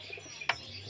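Pigeons of the Saharanpuri and Teddy breeds in a loft make faint, soft calls and chirps, with one brief sharper sound in the middle.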